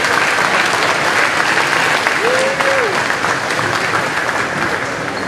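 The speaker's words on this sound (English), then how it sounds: "A round of applause for the people in the audience." High school graduation ceremony audience breaking into loud, sustained applause, a dense crowd of clapping hands throughout with a voice briefly rising above it.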